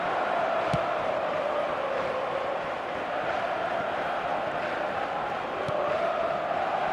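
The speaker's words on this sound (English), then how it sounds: "the crowd have tried to spark some excitement, but to no avail" A stadium crowd in the football game eFootball 2026 roars steadily as a continuous broad wash of noise, with a couple of brief sharp peaks rising out of the din.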